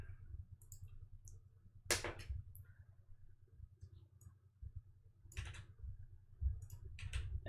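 Keys clatter on a computer keyboard as code is typed, quiet clicks in uneven bursts with brief pauses between flurries, over a low steady hum.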